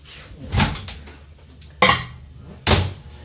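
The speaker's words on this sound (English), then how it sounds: "And I'm going to pop this one in the microwave for 60 seconds." Three sharp clunks of a microwave door and buttons, with a faint beep, close by and with short quiet gaps between.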